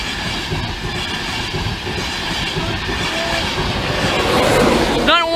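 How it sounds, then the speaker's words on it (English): A Class 82 passenger train bound from Edinburgh Waverley to King's Cross rumbles steadily past a level crossing at close range, wheels clattering throughout, with a brief squeal at the very end. "here's an 82 going to King's Cross from Edinburgh Waverley"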